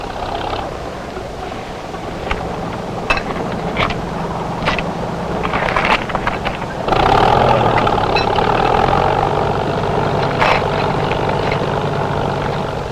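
A tractor engine runs steadily in a farm field while cut grass is dumped and packed for silage, a continuous mid-level rumble with occasional knocks, swelling louder partway through.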